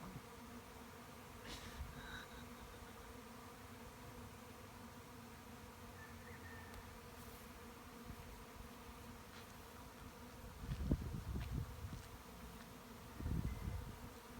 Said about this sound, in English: I'm not walking into that swarm.